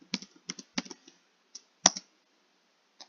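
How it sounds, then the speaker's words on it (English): Sparse, crisp keystrokes on a computer keyboard as a command is typed into a Kali Linux terminal: a quick cluster of clicks, a pause, then a few isolated taps, close and alone. "You just want to open up a terminal and type in ProxyChains."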